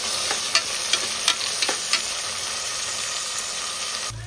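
Tomato pieces frying in oil, with a continuous close hiss and sizzle and several sharp spoon clicks and scrapes as they are stirred in the first two seconds, with no talking.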